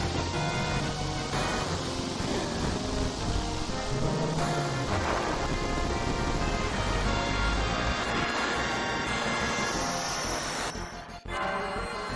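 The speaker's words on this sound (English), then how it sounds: "rain starts to fall, and Odin appears on Sleipnir, his legendary steed" Rain and thunder roll through the Odin summon in a Final Fantasy video game. A loud, continuous wash of rainfall runs under low rumbling, with a brief swell midway and a sharp dip near the end.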